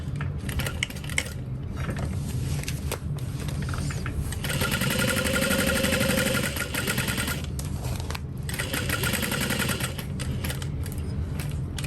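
A sewing machine runs in bursts, stitching about an eighth of an inch from the edge of fabric for a carry-all bag, with a rapid mechanical chatter that stops briefly and starts again, close and loud.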